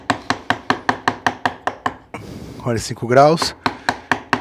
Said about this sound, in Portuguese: E vamos deitando o formão, e batendo levemente.